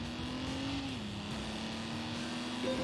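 Alfa Romeo GTV6 in The Grand Tour racing game, its engine holding a steady drone at constant revs that dips slightly then climbs near the end, loud and continuous with no talking.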